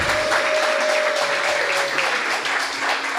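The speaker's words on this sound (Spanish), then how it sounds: "Y dale un aplauso al Señor por eso." A church congregation applauds, loud dense clapping throughout with a faint sustained tone and a few murmured voices underneath.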